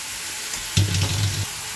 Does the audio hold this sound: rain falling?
no